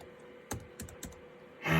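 Keys on a DEC Digital HiNote VP TS30H laptop keyboard struck in three sharp, separate clacks about a quarter second apart, close and clear in a quiet room, followed by a louder burst of clatter at the end.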